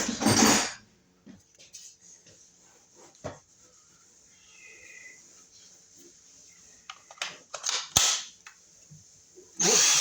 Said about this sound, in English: So I'll get my screw gun out here